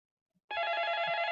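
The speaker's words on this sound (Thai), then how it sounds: "เอ้าโทรศัพท์อีก" A telephone rings with a bright electronic trill that starts abruptly after a moment of silence, a steady close tone held to the end, with a faint thump just before it.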